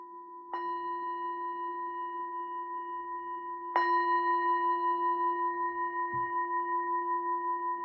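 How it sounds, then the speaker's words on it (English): Two struck meditation bell tones, the second louder, each ringing out with a long, steady, shimmering sustain in a quiet room. "allowing the sound of the bell just to signal the end of the practice"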